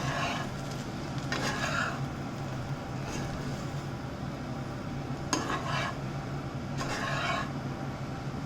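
Quick stirring of poha with potato and onion after a spoonful of lemon juice, a spoon scraping and clinking in the pan in a few short bursts over a soft steady background, no voices.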